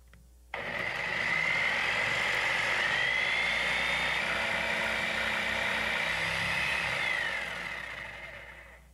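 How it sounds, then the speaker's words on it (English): A jigsaw starts abruptly and cuts through a door with a loud, steady buzzing rasp. The pitch drifts slightly as the blade works, and the sound fades out near the end. "Now I'm going to turn the jigsaw on"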